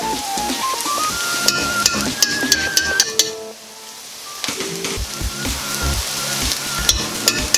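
Tomato paste and onions cooking in a pot, a crackling sizzle broken by sharp utensil clinks and scrapes, with a brief lull midway.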